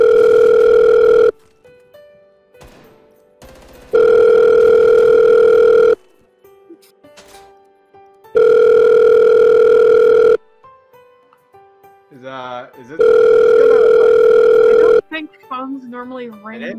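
A loud telephone rings in four long steady electronic bursts separated by pauses, each ring a flat sustained tone; people talk briefly in the gaps between rings.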